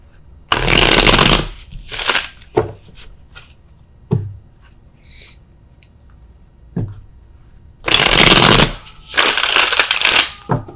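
Tarot cards are shuffled in loud, close bursts of riffling and sliding. Two long runs at the start and two at the end are separated by a quiet stretch with a few soft taps.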